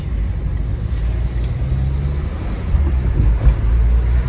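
A Citroën Berlingo's engine hums low and steady under engine braking while the car rolls along, a continuous rumble with faint road noise and no other sounds.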